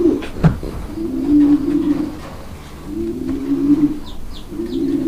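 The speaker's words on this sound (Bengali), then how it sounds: "দেখেন কবুতর বেডিং এর জন্য কি করতেছে ভাই" A pigeon in a fancy pigeon loft coos during breeding display in three low, rolling bouts separated by short pauses, close and clear, with a few faint high chirps from other birds near the end.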